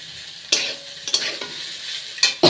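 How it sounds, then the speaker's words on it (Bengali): Cumin and ginger paste fries in a hot pan for a paneer curry, with a steady close sizzle broken by several sharp scraping stirs of a spoon against the pan. "এখন আমি জিরা আর আদা বাটাটা দিয়ে দিলাম।"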